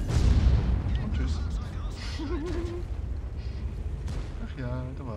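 A tank gun shot landing a penetrating hit in World of Tanks: a heavy, close boom opens the clip, followed by a rolling rumble that decays over several seconds among faint in-game battle noises.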